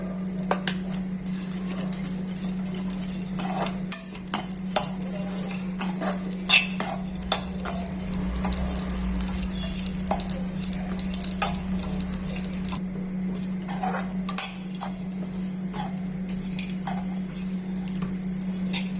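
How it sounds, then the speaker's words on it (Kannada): Almonds roast in a spoonful of ghee in a pan with a gentle, constant sizzle. A spoon stirs against the pan in repeated sharp scrapes and clicks, and a low steady hum sits underneath. "ಈಗ ಬಾದಾಮಿಯನ್ನು ಹುರ್ಕೋತಾ ಇದ್ದೀನಿ. ಇದಕ್ಕೂ ಒಂದು ಸ್ಪೂನ್ ತುಪ್ಪ ಹಾಕಿ ಹುರಿಯೋಣ."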